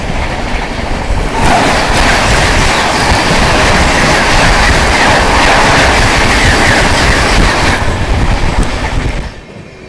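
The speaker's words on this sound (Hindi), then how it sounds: "सामने से आती हुई भुवनेश्वर तेजस राजधानी" The Bhubaneswar Tejas Rajdhani express approaches and passes close by on the rails, a loud, steady roar with rattling wheels and clattering carriages that cuts off abruptly near the end.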